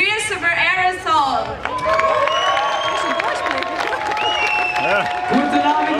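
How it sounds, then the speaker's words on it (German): Festival crowd at Zufikerfest 2014 welcoming the rock band Aerosol with applause, cheers and whistles, loud and continuous, with voices shouting over the clapping. "Bitte einen grossen Applaus"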